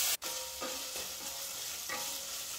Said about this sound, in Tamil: அந்த தக்காளி நல்லா மசிஞ்சு வர வரைக்கும் அதை வதக்கிக்க போகிறோங்க